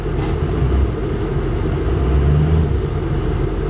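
A Ram 3500 dually diesel truck with a turbo that fails to spool, idling in gear under light load, giving a steady low rumbling drone that swells slightly mid-clip, close and continuous.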